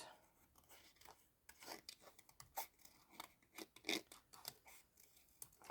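Scissors fussy-cut around a shape in cardboard, giving a quiet, close series of irregular crisp snips and rasps with short pauses between cuts.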